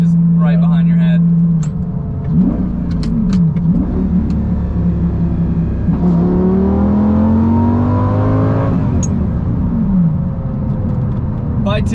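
A Lamborghini Gallardo V10 engine revs close behind the seats while driving, rising and falling through several climbs in pitch, with a person talking over it.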